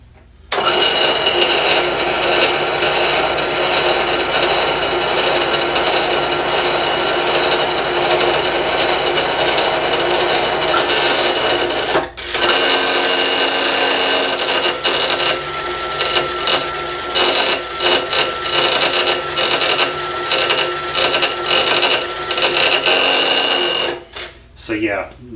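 A Bridgeport milling machine runs continuously and loudly nearby, its steady motor and belt whine holding tones throughout and briefly dipping midway, with someone talking over it at times.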